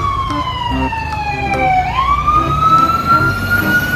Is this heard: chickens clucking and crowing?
no